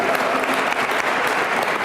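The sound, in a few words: audience applause at scholarship award ceremony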